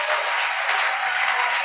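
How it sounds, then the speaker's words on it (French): Brief applause from a church congregation at a Congolese evangelical service, a steady wash of clapping hands, somewhat muffled and band-limited, with no break in its short span. "Applaudissons fort le Seigneur"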